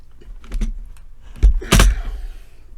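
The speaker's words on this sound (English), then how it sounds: "I just dropped my keyboard." A computer keyboard drops onto a desk, landing as a loud clattering double thud after some light tapping and rustling, then fades quickly.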